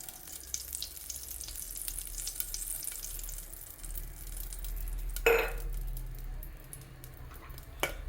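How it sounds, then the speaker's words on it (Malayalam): Mango pieces fry gently in cow ghee for a mango kheer, giving a steady close sizzle throughout, with a sharp clatter of a utensil near the middle and another brief knock near the end. "നമുക്കതൊന്ന് ചെറുതായിട്ടൊന്ന് വറുത്തിട്ട് വേപ്പിക്കാം."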